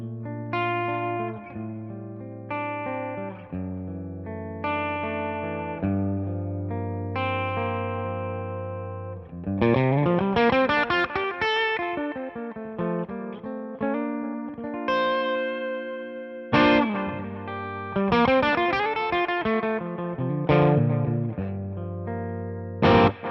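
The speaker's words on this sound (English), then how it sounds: "I then have the Catlin Bred Echo Rec pedal, which is my favorite kind of standalone vibey delay" Electric guitar played through a Catalinbread Echorec delay pedal on a live pedalboard, chords and melodic lines ringing with repeating echoes and a warm, steady wash of delay trails, loud and continuous with no talking.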